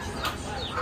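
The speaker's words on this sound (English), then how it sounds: "Here's some roosters." A rooster clucks briefly a couple of times at a moderate distance over a steady outdoor background at a fish shack in Key West.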